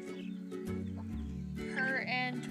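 An Easter Egger chicken clucks and croons nearby on a backyard flock's ground, with several short clucks followed by a rising, warbling call near the end.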